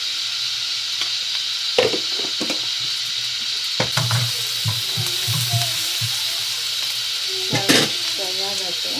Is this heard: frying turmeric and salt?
yes